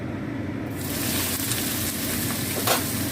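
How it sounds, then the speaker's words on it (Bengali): Thin strips of snake gourd sizzling in hot mustard oil in a pan, a steady close frying hiss with a few brief stirring scrapes and no talk. "এই যে চিচিংয়েটা আমি সরু করে কেটে নিয়েছি, দেখুন সরু করে কেটে নিয়েছি, এটা ভাজবো"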